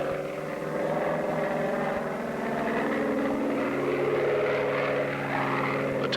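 A Bearcat propeller airplane takes off with a loud, sustained droning roar whose pitch wavers slightly as it climbs, with no voices over it.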